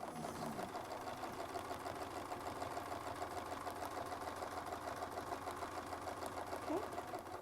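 A sewing machine runs in a steady continuous stitching hum, moderately quiet, with a faint voice briefly audible beneath it.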